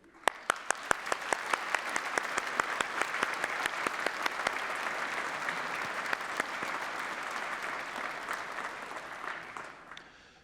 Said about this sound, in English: we and you should take this opportunity to applaud our graduands in recognition of their achievements